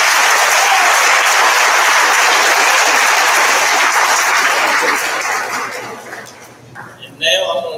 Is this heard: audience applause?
yes